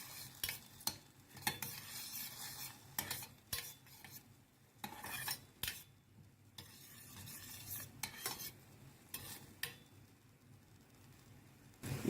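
Garlic frying in a pan for a molokhia topping is stirred with a utensil, giving a run of scraping strokes and clinks over a soft sizzle, close and moderately loud, with no one talking.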